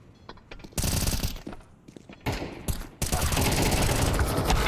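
Loud automatic gunfire from a Counter-Strike match on the Overpass map, with rapid sprays and bursts that start and stop in bursts before a sustained roaring volley, no talk.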